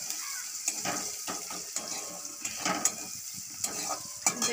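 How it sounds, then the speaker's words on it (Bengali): Food fries in a pan on a home stove with a continuous close sizzle and hiss, broken by short clattering bursts of stirring, with no talking. "দেখুন ভাজা ভাজা হচ্ছে"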